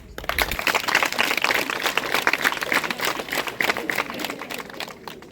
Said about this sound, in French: Bravo et vos applaudissements